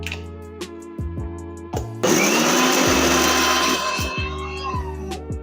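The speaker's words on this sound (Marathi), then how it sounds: "चवीनुसार आपण मीठ टाकूया आणि आपण सुक्कच दळून घेतोय." A mixer grinder dry-grinds masala of garlic, ginger, coconut, coriander and salt. There is one loud, steady whir of about two seconds with a rattle, and quieter steady tones sound before and after it.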